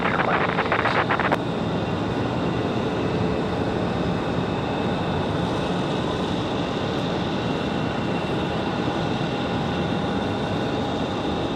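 Frontier Airlines jet taking off from runway 5 left at Raleigh-Durham, a broad steady engine roar held throughout with a short rattle at the start, distant and sustained, no talking.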